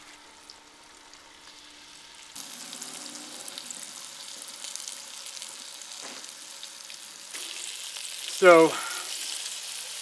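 Flour-dredged chicken frying in a Dutch oven, a soft, steady sizzle heard close. A brief louder scrape or clatter cuts through near the end.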